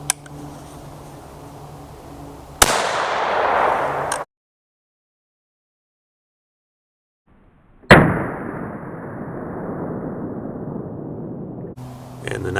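A 12 gauge shotgun fitted with a 10mm caliber adapter fires Nosler ASP 180 grain jacketed hollow point rounds into ballistics gel outdoors, two loud sharp blasts with decaying tails separated by a brief silent gap.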